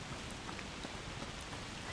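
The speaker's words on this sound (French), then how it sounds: "Même la pluie c'est magnifique." In the video game A Plague Tale: Requiem, a constant wash of rainfall patters on the ground, quiet but unbroken, with scattered drop ticks and no speech.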